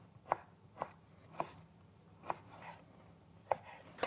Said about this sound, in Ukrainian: Тепер я беру курагу, нарізаю дрібно.